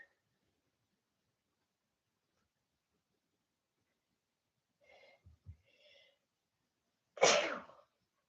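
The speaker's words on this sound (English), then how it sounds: "gonna sneeze, sorry." A few faint breaths and sniffs, then a single sharp, fairly loud sneeze burst near the end, with near silence before it.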